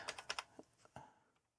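Keys on a grey ZX Spectrum 128k +2 keyboard are pressed in a quick run of crunchy, clicky strikes, a few close together and then sparser taps trailing off, heard alone and fairly quiet.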